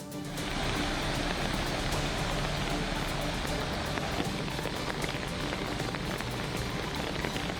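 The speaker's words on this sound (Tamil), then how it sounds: "தொடர்ந்து பெய்து வரும் அதிகனமழை காரணமாக பல்வேறு அணைகளுக்கு நீர்வரத்தானது உயர்ந்திருக்கிறது" Heavy monsoon rain pours steadily during a flood on the Thamirabarani river, a dense, continuous broadband hiss of downpour that stays loud and unbroken throughout.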